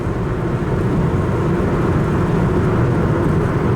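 Steady low road and engine drone from inside a 2002 Pontiac Grand Am at cruising speed after a front wheel bearing hub replacement, a smooth even rumble with no growling and no talking.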